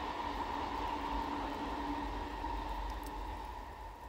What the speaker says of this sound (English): oh, it's the train that goes once an hour.